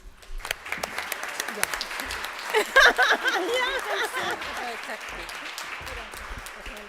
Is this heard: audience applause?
yes